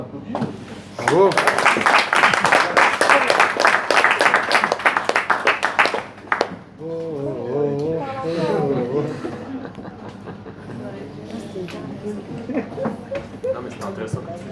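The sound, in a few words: audience applause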